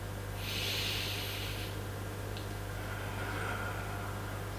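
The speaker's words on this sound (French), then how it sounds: "On inspire." A person takes one slow, deep inhale through the nose during a floor-based back pain relaxation exercise: a soft, airy hiss that swells and fades over about a second, close up against a low steady room hum.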